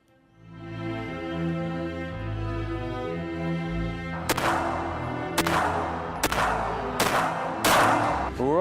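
A Beretta 1301 Comp semi-automatic shotgun fires slugs: five loud, sharp blasts at roughly one-second intervals, each with a reverberant tail, breaking over a steady musical background.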